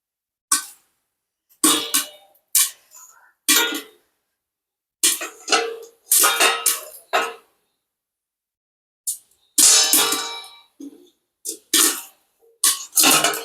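Corn kernels burst into popcorn inside a covered pot, heard as scattered sharp pops and short clusters of pops separated by silent gaps, close and fairly loud.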